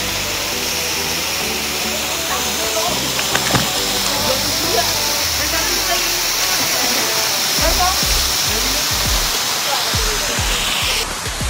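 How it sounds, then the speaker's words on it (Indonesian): Roro Kuning waterfall at a tourist site, a steady loud broadband rush of falling water filling the scene, with scattered nearby knocks and voices talking over it. "kita sudah sampai di destinasi wisata air terjun Roro Kuning"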